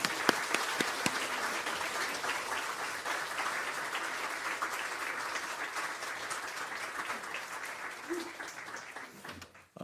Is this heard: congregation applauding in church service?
yes